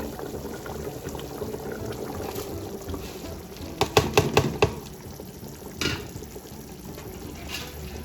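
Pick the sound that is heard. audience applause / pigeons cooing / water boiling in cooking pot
water boiling in cooking pot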